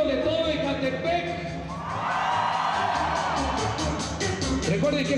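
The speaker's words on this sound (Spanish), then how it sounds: "Ahora un grito de todo Ecatepec." A whole concert crowd in Ecatepec roars on cue, a loud, sustained wall of mixed shouting and whooping voices that peaks in the middle and keeps going to the end.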